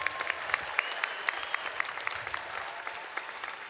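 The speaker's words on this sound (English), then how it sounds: "That's worthy of a round of applause." Audience applauding graduating students at a university commencement ceremony, sustained moderately distant clapping from a large crowd with individual sharp claps standing out, no talking over it.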